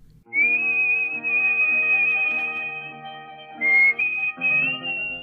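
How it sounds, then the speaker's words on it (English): A person whistles a sustained, wavering melody at the start of an Assamese song. The high tune is clear and close, holding long notes with a brief break midway, and soft accompaniment sounds beneath it. "The whistling that precedes the actual song successfully evokes a particular atmosphere"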